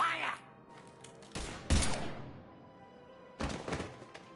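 A few heavy, muffled bursts of gunfire from the video game Mass Effect 3, close and punchy, spaced apart with quieter gaps and a faint voice early on.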